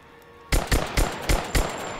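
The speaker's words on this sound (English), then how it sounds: "Wow, they just shot it." Video game gunfire in Rise of the Tomb Raider: a burst of five sharp, loud shots in quick uneven succession after a brief quiet lead-in, heard alone.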